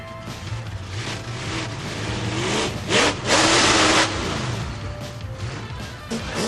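A loud, heavy monster truck engine rumbles and revs throughout, with a burst of crunching impacts midway as the truck crushes cars.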